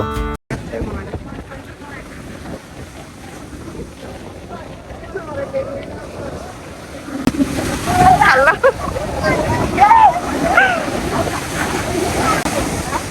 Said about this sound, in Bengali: হঠাৎ করেই একটি ঢেউ এসে পুরাটাই ভিজিয়ে দিল